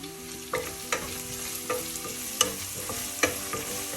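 Tuna curry base with curry leaves stirred in a pan, a spoon scraping in scattered strokes over a steady low sizzle, with no voices.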